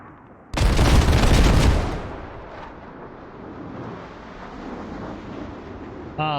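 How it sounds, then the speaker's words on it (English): Heavy airstrike explosions in the Squad video game, a mechanized infantry clash in Gorodok, erupt as a loud, sustained roar of blasts lasting over a second, then fade into a long rumbling tail of distant fire. "And is this an airstrike?"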